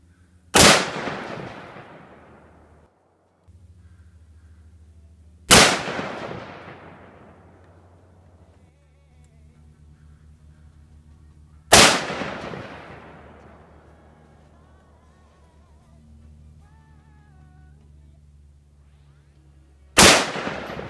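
A Canik SFX Rival pistol fires four single shots at a range with 100-yard targets, each a loud sharp crack with a long decaying echo, spaced several seconds apart, while a low steady hum runs underneath.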